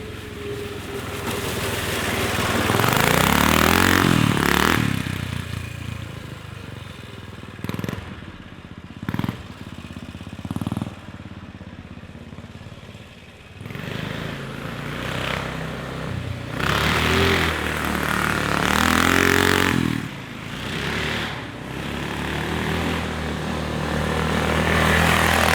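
A street-legal golf cart with a broken throttle strains its engine in loud, close surges that rise and drop, cutting out between bursts and sputtering as it tries to move.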